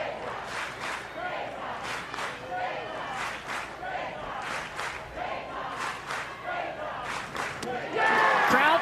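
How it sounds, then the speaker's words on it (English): At an NCAA softball game between Florida State and Marist, the crowd chants K-time for a strikeout in rhythmic, repeated shouted bursts that swell louder toward the end. "Crowd chanting K-time"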